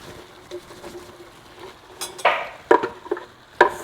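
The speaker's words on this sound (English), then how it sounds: "Now back in goes the beef. And definitely the juices. And then on top of that, our adobo sauce that we made." Beef with its juices and adobo sauce tipped into a pan and stirred, with scattered clinks and scrapes of a utensil against the pan over a faint sizzle, close and fairly quiet.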